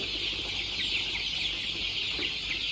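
Chickens clucking steadily throughout on a Thai chicken farm of nearly three thousand birds, a dense continuous flock chorus heard up close with no talk.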